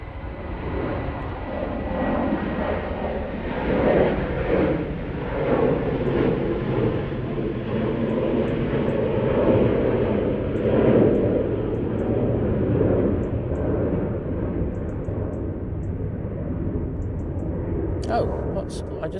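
A British Airways airliner departs Manchester Airport for London Heathrow, its engines producing a broad, sustained roar that swells and fades gradually at a moderate distance while a person talks over it.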